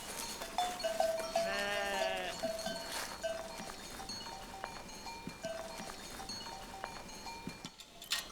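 Sheep and goats on a farm bleat close by, with one long wavering bleat early on, followed by shorter calls, scattered knocks and light shuffling in a quiet outdoor setting.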